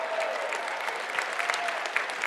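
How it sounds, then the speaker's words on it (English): Keynote audience at a conference applauding, a steady, full burst of many hands clapping at even volume, with no talk over it. "All right, round of applause"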